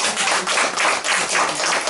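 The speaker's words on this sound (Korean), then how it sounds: "박수 부탁드립니다." Audience in a church at a Christmas service applauds a student receiving an award, a steady dense wash of clapping throughout, close and full.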